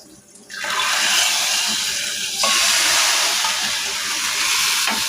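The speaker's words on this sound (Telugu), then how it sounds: "తాలింపు వేగిన తర్వాత చారులో పోసుకోవాలి" A tempering of urad dal, mustard seeds, cumin, dried red chillies and curry leaves poured into a lentil stew with amaranth greens: a sudden loud sizzling hiss bursts in after a brief quiet and continues steadily, with no talking.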